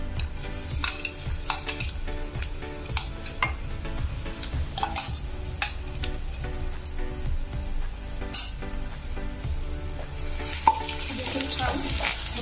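Garlic frying in a pan over low to medium flame, a continuous soft sizzle with scattered clicks and taps of a utensil stirring, close by and moderately quiet.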